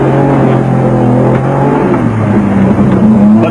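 A Nissan Hardbody rally truck charges through swamp water during a South African off-road rally, its engine roaring steadily and close, with the pitch shifting as it pushes on, and no voices.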